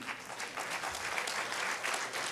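Brief burst of audience applause, a dense wash of clapping from many hands, steady throughout.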